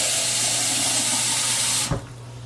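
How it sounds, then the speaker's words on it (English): Water poured onto rice inside a Tupperware Smart Multi Cooker, a steady close rushing splash that runs on evenly, then stops abruptly near the end, leaving a quieter hum. "I'm going to add a little bit of water to that."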